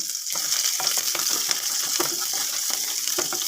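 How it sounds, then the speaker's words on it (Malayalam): Garlic and chopped green chillies sautéing in a pan for a mango pickle, a loud, dense hiss of hot oil that stays steady throughout, dotted with light clicks and taps of a stirring spoon, close up with no voices. "വെളുത്തുള്ളി ഒന്ന് ചെറുതായിട്ട് ബ്രൗൺ കളർ ആകുന്നത് വരെ വഴറ്റണം അതിനുശേഷം നമ്മൾ ചെറുതായിട്ട് അരിഞ്ഞ് വെച്ച പച്ചമുളക് ചേർത്ത് കൊടുത്തിട്ടുണ്ട്"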